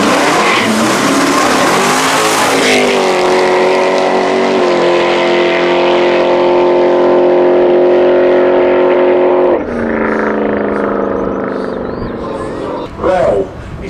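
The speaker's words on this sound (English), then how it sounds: "that's Paul Bentley at the wheel of this gorgeous Mustang, fully road legal" Road-legal Ford Mustang launching in a no-prep drag race, loud engine screaming and climbing in pitch before easing off into a lower drone, with an announcer talking over the run.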